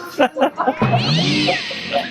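Up close, a cat lets out a drawn-out, wavering meow that rises, then falls, near a person's brief speech.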